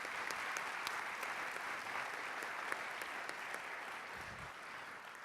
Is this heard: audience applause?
yes